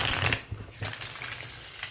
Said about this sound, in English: Because see, shuffles beautifully.